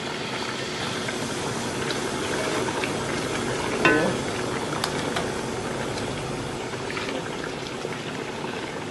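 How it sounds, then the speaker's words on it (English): Parboiled tomatoes frying in a pot as the base of a jollof rice stew, giving a steady, even sizzle and bubbling hiss that runs unbroken throughout with no talking. "I'm going to fry all of them together, and my stew for the jollof rice is getting ready"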